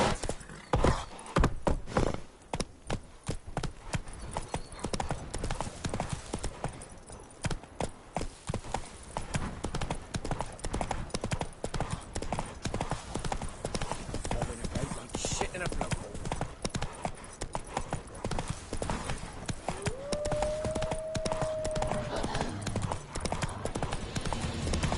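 Horse hooves pound in a rapid, continuous clip-clop gallop throughout a Witcher 3 game scene, with a brief whinny and someone talking over it.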